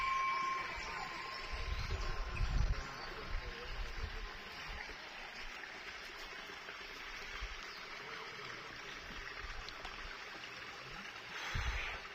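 A mountain stream on the Velliangiri hills flows and trickles steadily in the background, a soft continuous rush, with a few low thumps and brief murmurs of voices early on.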